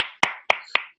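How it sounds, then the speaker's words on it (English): Four sharp, evenly spaced claps about a quarter second apart, close and fairly loud, with a hand clapping against a shoulder during an online club meeting. "I'll clap on my shoulder because I'm holding my iPad."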